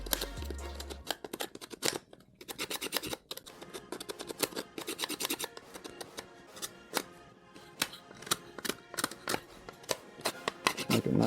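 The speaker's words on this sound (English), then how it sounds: "Make sure all the little plastic burrs are removed from all the edges that we cut." Sharp, irregular scraping and clicking strokes as plastic burrs are trimmed from the cut edges of a sequential third brake light for a Durango or Grand Cherokee, close and dry with short pauses between bursts.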